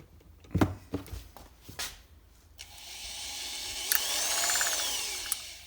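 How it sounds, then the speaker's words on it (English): An electric drill whirs up and spins steadily with a rising whine, turning a vintage Mopar semi-automatic transmission governor through a rubber hose shaft, after a few clacks and handling knocks, close by and moderately loud. "I've concocted a little bit of a drive shaft here for this. Rubber hose onto my drill."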